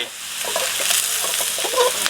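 Steady hiss and crackle of eggs frying in hot oil in a wok beside wide rice noodles and shrimp, with occasional scraping stirs throughout.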